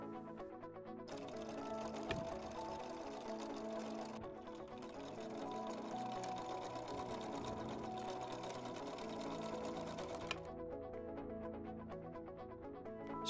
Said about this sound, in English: Sew each elastic length into a loop.